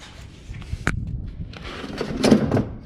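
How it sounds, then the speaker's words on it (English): A pickup truck door being opened, a sharp latch click followed by soft scraping and a louder clunk and rattle near the end, recorded close with no talk. "Open the door."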